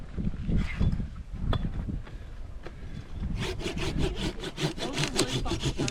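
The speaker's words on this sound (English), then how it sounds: "Those are really fucking sharp little saws." Small, very sharp hand saw cutting tree branches outdoors in a snow storm, with close, rapid back-and-forth rasping strokes building into a steady rhythm in the second half.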